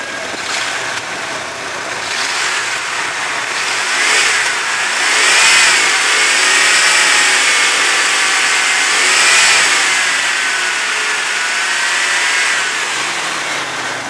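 A car engine that lacks power, with oil-fouled filler cap and valve cover, runs and is revved repeatedly, its pitch rising and falling in several close, loud swells with no talking.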